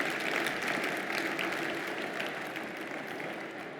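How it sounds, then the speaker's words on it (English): Steady applause from a conference audience after a session on the circular economy, a continuous even wash of clapping that fades slightly toward the end. "give them a big round of applause"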